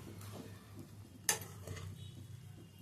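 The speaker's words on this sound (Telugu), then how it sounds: "చేపలు వేయించుకున్న చేపల్ని ఒక్కొక్కటి వేసుకోవాలండి. కలుపుకోండి." Fried fish pieces in masala are stirred in a pan over a faint steady sizzle, with one sharp metallic scrape of a spoon against the pan and a few softer clinks, close and quiet.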